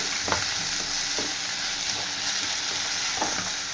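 Food frying in a pan is stirred with a spoon or spatula, a close, continuous sizzling hiss broken by a few soft scraping strokes.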